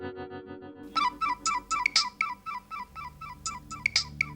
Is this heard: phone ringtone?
yes